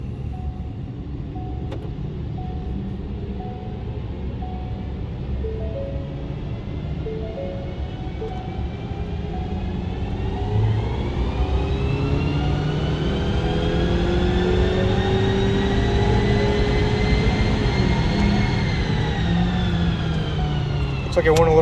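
A tuned 2022 Ford Maverick engine on a dyno, revving steadily with its pitch rising through a long sweep before levelling off and dropping slightly, loud and close, with people talking underneath.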